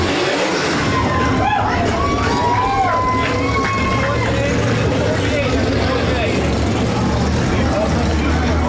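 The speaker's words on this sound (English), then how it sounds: "We're going to do some donuts here on the front chute." A 360 sprint car does donuts on the front chute at Rapid Speedway, its engine roaring loud and steady with wavering revs over a dense crowd and track din.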